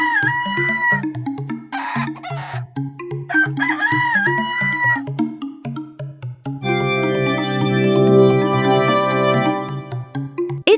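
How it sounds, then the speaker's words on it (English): A rooster crows loudly and close several times in a row, each call a rising then sustained cock-a-doodle-doo, followed by a longer drawn-out crow near the end with no talking. "It's a rooster."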